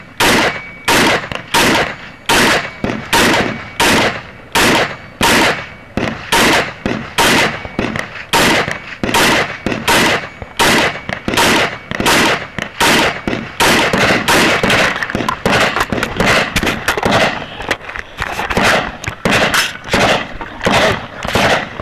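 Rifle gunshots at a Tactical Games shooting competition in Burnet, Texas: a long series of loud, sharp outdoor cracks, spaced at roughly half-second intervals and speeding into tighter strings near the end, heard alone without talk.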